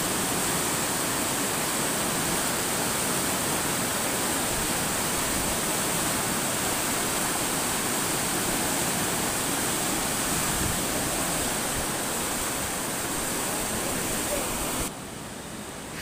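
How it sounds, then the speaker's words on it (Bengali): Floodwater rushes through the open regulator gates of the Muhuri Project at Sonagazi, a loud, dense, unbroken roar of churning water that holds steady throughout and drops slightly at the very end. "দ্রুত পানি নামতেছে সবগুলো রেগুলেটর দিয়ে"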